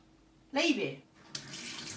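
Tap water runs in a home where a pet parrot is being given a shower, a broad steady rush that starts, pauses briefly, then resumes more softly, close and fairly loud.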